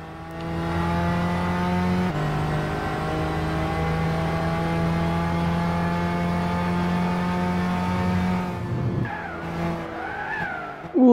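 A race car engine from Gran Turismo 6 drones loud and steady, holding one pitch, then shifting up a gear, before the tone drops away near the end as tires begin to squeal.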